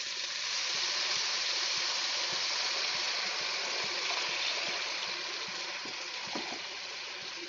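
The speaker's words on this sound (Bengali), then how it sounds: "এখন আমি অল্প করে জল দিয়ে দেব" Water poured a little at a time onto boiled onions in a pan while cooking Bengali egg curry, a steady close hissing, gushing wash with faint sizzle running the whole stretch, no voices.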